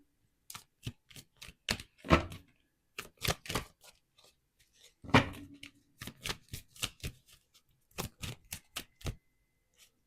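Oracle cards are pulled and handled for a reading, producing a run of crisp, close snaps, flicks and shuffling taps in irregular bursts with short quiet gaps between them.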